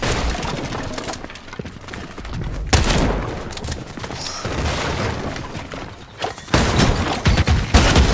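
Rapid bursts of shotgun fire in the video game Unreal, loud and close, with dense overlapping blasts and booms throughout and a heavier cluster of shots near the end.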